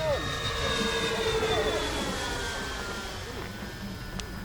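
Grumman F7F Tigercat fire bomber coming around to land, a steady droning engine sound with slowly shifting pitch, moderately loud and fairly close, with no voices over it.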